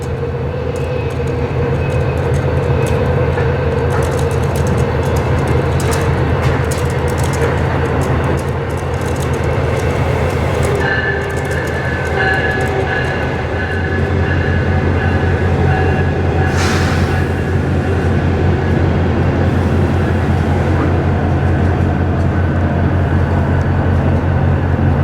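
A train in Colorado rolls past close by, a loud continuous heavy rumble of wheels on rails, with high wheel squeals and clanks, and no one talking.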